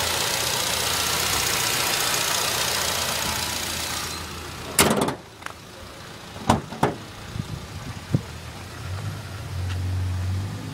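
The 1.5 liter dual overhead cam engine of a 2010 Nissan Grand Livina gives a steady, close mechanical hum that stops after about four seconds. A few sharp clunks and clicks follow, then a faint low hum returns near the end.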